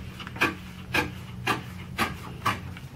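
Paper being torn along a folded crease with a bone folder pushed through the fold, heard as five evenly spaced, close rasping strokes about half a second apart, with no talking.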